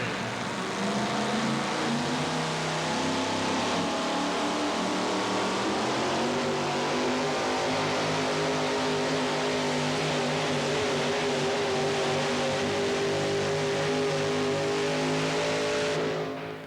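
A Super Rat Chevrolet drag race car engine roars continuously and loudly, its harmonic pitch slowly rising as it builds, with no voices over it.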